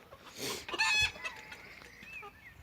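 Two large roosters cluck and crow nearby, a loud throaty call rising in the middle, followed by softer scattered fowl noises.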